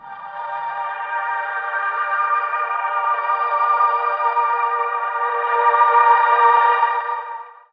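A modular synthesizer tone processed with a shimmer effect sustains a steady, bright harmonic drone for over seven seconds, swelling slightly near the end before cutting off, played through a spatial dome sound system.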